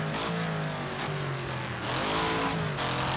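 A race car engine in the Wreckfest video game revs and shifts down through gears, steady and loud with pitch dropping and climbing again, close up with no talk over it.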